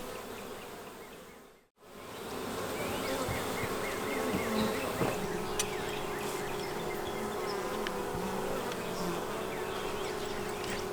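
Bees buzzing steadily around a honeycomb hive during a colony split, a dense close drone that holds for nearly the whole stretch after a brief dropout near the start.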